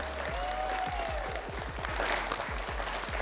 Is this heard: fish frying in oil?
no